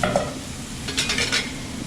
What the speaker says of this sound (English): I don't want to break the pasta, I just want to stir it so it's separate.